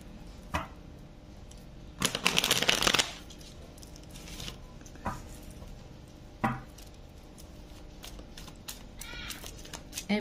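Tarot cards are shuffled and handled close by in a quiet room, with a dense riffling burst in the middle and scattered soft card snaps and taps around it.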